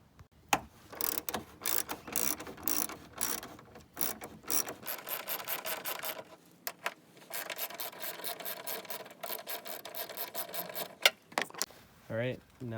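A ratchet works loose the two 10 mm headlight bolts on a Chevy Cobalt, with rapid close clicking in uneven bursts over several seconds and a faint voice in the background.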